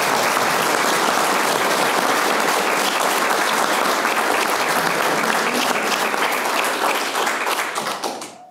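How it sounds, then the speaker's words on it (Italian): Loud, dense applause from the gathering at the Agliè town council inauguration, welcoming the municipal executive, sustained for about eight seconds before tapering off abruptly at the end. "Fate un applauso alla giunta."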